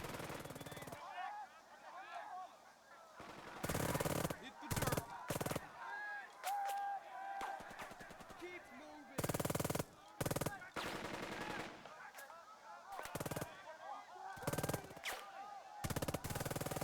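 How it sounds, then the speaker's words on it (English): Tank guns and machine guns open fire in the World War II tactics game Burden of Command, set in the Anzio trenches, as loud repeated bursts with game voices calling out in the quieter gaps. "time to open up with the tanks"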